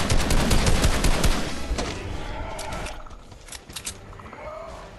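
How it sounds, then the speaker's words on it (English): Gunfire in the Fortnite video game crackles in dense, loud bursts at first, then thins into scattered, fainter shots. "I think there's somebody else shooting him too."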